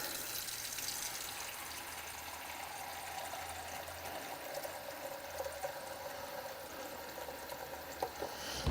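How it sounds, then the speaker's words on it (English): Water pours steadily into a pan while crab is being cooked, a continuous splashing fill with faint clinks near the end and no talk. "Add some water"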